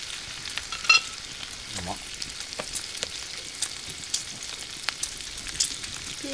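Vegetables grill outdoors over a garden wood fire, giving a faint, steady sizzle and crackle with scattered small pops throughout.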